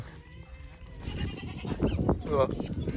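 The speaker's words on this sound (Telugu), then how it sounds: "మేక దగ్గరికి వచ్చిన చూపిస్తాను" Goats bleat at a village goat gathering where animals are being sold, several cries rising over a steady crowd murmur and people talking nearby.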